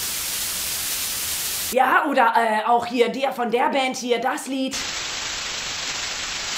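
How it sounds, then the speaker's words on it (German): Steady white-noise static plays as a dark ambient music track, loud and hissing, dropping out in the middle while someone speaks, then returning unchanged. "Also ja, hauptsächlich Rauschen."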